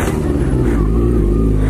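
A motorcycle engine drones with a steady low rumble while being ridden, loud and close, with wind noise and no talking.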